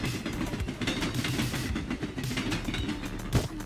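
A train rumbles steadily in the Midnight Fight Express video game, with a low continuous roll and faint rhythmic clacks, and a brief thud near the end.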